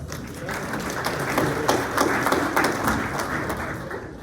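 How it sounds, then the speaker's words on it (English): Morning-event audience in Corona claps for Hannah Stone, a moderate, uneven patter of hands with distinct sharp claps standing out, fairly close and lively, with murmuring voices underneath. "Please give them a round of applause"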